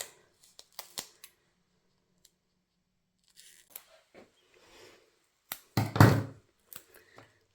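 Scissors snipping through foam tape for a card-making project, scattered quiet close clicks and short cuts in near silence, ending with one louder crunching snip.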